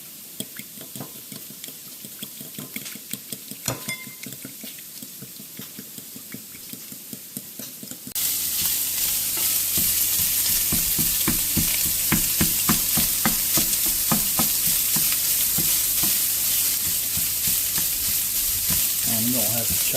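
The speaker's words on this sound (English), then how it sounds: "for right now we're just going to stir it" Dry seasonings are stirred in a frying pan, first a quieter scrape and patter, then a loud, steady sizzle with repeated spoon clicks that runs to the end.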